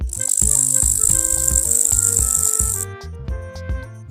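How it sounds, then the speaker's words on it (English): A grasshopper makes a loud, dense, high-pitched rattling buzz for nearly three seconds over a soft musical backing, then it stops and the music continues alone. "Grasshopper."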